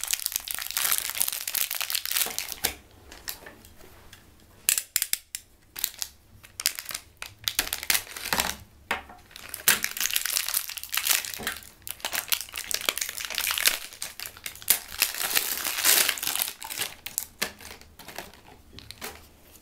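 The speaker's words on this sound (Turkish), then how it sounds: "Şimdi de şarj cihazımızı açayım." The packaging of a charger for an Onyo FunnyMaxx 7-inch tablet is unwrapped up close, giving dense, irregular crinkling and crackling bursts with short pauses and no talk.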